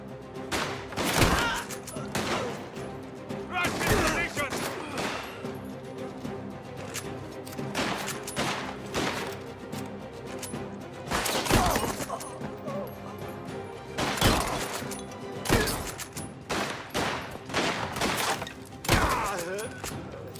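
A trench shotgun fires repeatedly in the Mafia video game, each loud, close blast crashing out at irregular intervals amid rumbling combat noise, with a voice talking in between.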